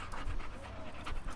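A dog pants steadily in quick, rhythmic breaths close by, its breathing continuous and moderately loud with no talk over it.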